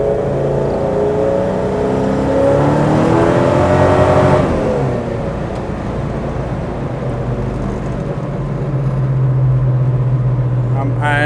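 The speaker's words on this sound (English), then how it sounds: "We're rolling into it in third gear," A 1972 Chevrolet Chevelle SS with a 496 cubic-inch V8 and four-speed pulls hard in third gear, its loud, rumbling engine note climbing steadily and then holding a strong drone close to the listener.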